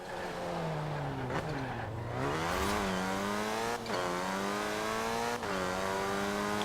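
A Morris Minor races in Forza Horizon 4, its engine droning loud and continuous. The pitch climbs steadily and drops back at each of three gear changes, heard alone with no talking.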